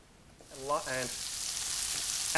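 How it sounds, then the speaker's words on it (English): Capsicum and tomatoes frying in extra virgin olive oil, a soft steady sizzle building up close, with a voice speaking briefly near the start. "as I'm cooking the capsicum and the tomatoes in the oil"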